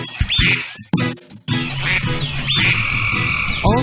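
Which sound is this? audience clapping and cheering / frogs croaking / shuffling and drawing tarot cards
frogs croaking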